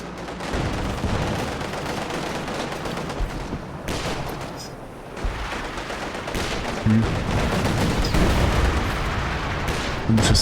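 Dense, continuous gunfire rattles through a tank battle video game, sustained machine gun bursts layered with heavier booms, loud and unbroken across the whole stretch.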